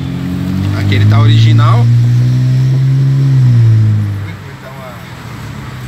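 A 2008 Hyundai Azera with an open exhaust revs its engine on a cramped central São Paulo street, a loud rising and sustained drone that falls away near the end, with someone talking over it.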